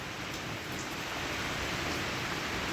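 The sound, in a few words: heavy rain pouring during a storm in Uganda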